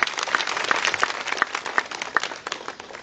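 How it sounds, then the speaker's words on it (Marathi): An audience at a stage show applauds, with scattered hand claps that rise and fall in a moderate, continuous patter, heard alone. "आणि आय थिंक आपल्या सगळ्यांसाठी आणि तुमच्यातल्या रसिकांसाठी एकदा जोरदार टाळ्या होऊन जाऊ द्या."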